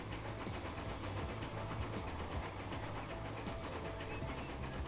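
A passenger train runs steadily in Transport Fever 2, heard from on board as a continuous rumbling, hissing rail noise with a faint rhythmic clatter, no voices.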